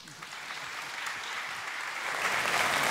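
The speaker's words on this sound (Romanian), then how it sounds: "Aplauze bine meritate pentru omul, artistul și prietenul nostru, Costel Popa." Applause from the audience at a carol concert in Medias, a steady dense clapping that swells louder toward the end, with a voice faintly underneath.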